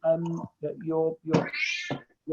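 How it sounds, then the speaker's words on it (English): A cat meows repeatedly in the background of an online stress management webinar, several drawn-out, rising cries in quick succession, fairly close and clear with no talk over them. "We can hear your cat meowing in the background"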